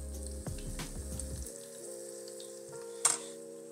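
Shrimp fried rice balls bubble and sizzle in deep-fryer oil, a soft steady crackle under a humming background, with a brief sharper clink near the end.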